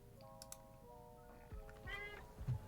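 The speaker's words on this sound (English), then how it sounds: "Meow, a cat says." A cat meows a few times at close range, quiet and clear, with a few soft keyboard-like clicks around it.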